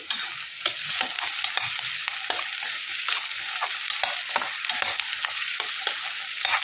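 Two large onions and sliced green chillies frying in a pan for keema curry, a steady close sizzle with repeated scraping stirs throughout, no voice over it.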